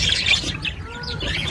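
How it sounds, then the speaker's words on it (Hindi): Newly acquired pet parrots chirp and squawk in short, close bursts, a few sharp calls over a soft background. "ये नए वाले तोते हैं।"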